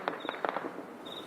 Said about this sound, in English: You can hear the gunfire. This is all ground fire.